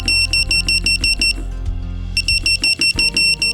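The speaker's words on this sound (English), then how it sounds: "Oma Sense sounds an emergency alarm with flashing LEDs and an audible alarm to alert you your attention is needed." An Oma Sense movement monitor sounds its emergency alarm: loud, rapid, evenly repeated electronic beeps in fast bursts, pausing briefly in the middle before resuming, alone with no talking.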